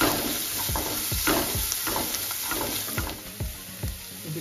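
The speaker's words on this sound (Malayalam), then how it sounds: "അര സ്പൂൺ മുളക് മഞ്ഞൾപ്പൊടിയും കൂട്ടി ഇളക്കി കൊടുക്കുക" Chilli and turmeric powder being stirred in a hot pan, a steady sizzle broken by repeated scraping strokes of a spoon against the metal, close and fairly loud with no talking.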